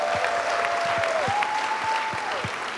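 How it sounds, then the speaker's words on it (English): Steady applause from an event audience celebrating UPSA at a season finale gathering, a dense continuous wash of clapping with a sustained tone running through it and a few low thumps. "A round of applause for UPSA for being consistent."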